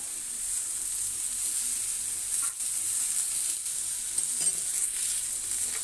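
Tomatoes frying in a pan on the stove, a continuous close sizzling hiss with faint stirring, no voices.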